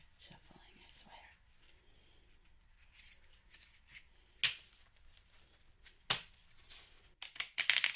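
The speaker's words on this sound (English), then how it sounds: "I'm usually better at shuffling, I swear." Playing cards shuffled for a blackjack game at a quiet tabletop, with soft riffles and snaps that grow sharper and quicker near the end, mixed with hushed whispered speech.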